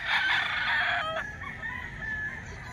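A Gilmore hatch rooster crows loudly up close, one long drawn-out call that breaks off abruptly, followed by quieter clucking and a distant second crow.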